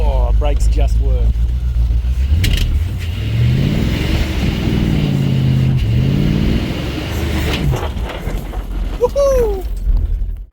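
A Ford XD Falcon revs and accelerates on a road test, its engine rising and falling loudly and close through gear changes, with people talking over it at the start and end.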